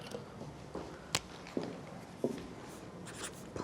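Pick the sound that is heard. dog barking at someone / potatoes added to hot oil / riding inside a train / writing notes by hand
writing notes by hand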